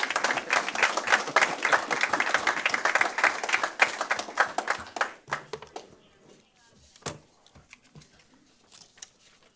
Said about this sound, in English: Little round of applause for Sean, huh?